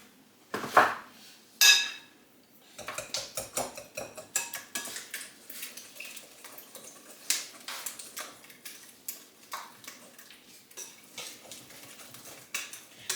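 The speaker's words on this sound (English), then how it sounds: "and then we're just going to mix those in" Three eggs get mixed into cake batter in a bowl, giving quiet irregular clinks and taps of a utensil against the bowl, steady through most of the stretch, with two sharper knocks near the start and no talking.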